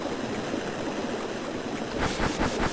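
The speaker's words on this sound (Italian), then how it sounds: "è diventato un geyser ora." Water gushes up from a geyser in the video game Mario & Luigi, a steady rushing spray that surges louder in pulses near the end.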